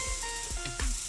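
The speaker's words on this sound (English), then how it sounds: "Y'all hear that sizzle?" T-bone steak sizzling on a grill, a steady close hiss that runs through the short moment without any voices.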